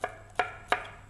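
Three sharp knife strokes cut pineapple on a cutting board at an even pace, each a crisp thud with a short ring, close and clear.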